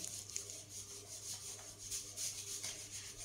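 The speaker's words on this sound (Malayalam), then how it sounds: "ഇനി ഞാനിവിടെ ഒരു കാർഡ്ബോർഡ് പീസ് എടുത്തിട്ട് അതിൻ്റെ ഈ ഒരു ഉൾഭാഗത്ത് നിന്ന് ഇതുപോലെ ഇങ്ങനെ പൊളിച്ചെടുക്കുന്നുണ്ട്" A piece of cardboard is peeled apart by hand, its inner layer pulled away in one strip for a plastic bottle craft, giving a soft, steady rubbing and tearing rasp close by with no talk.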